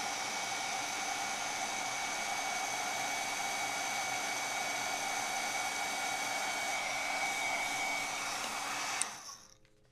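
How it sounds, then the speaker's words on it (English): A craft heat tool blowing hot air to melt embossing powder, a steady close whirring blast with a high whine that runs unbroken, then shuts off and winds down at the end. "now I'll get my heat tool warmed up"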